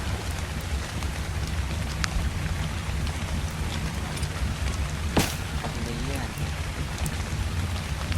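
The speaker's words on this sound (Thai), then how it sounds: "ฝนตกอยู่ข้างนอก" Steady rain falls outside in the video game ARK: Survival, a dense even hiss with low rumble underneath, continuous throughout with a brief sharp crack midway.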